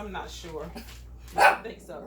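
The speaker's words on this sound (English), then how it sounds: "That's my dog" A pet dog named Pimp barks once loudly nearby in a home kitchen, a short sharp burst rising over steady conversation.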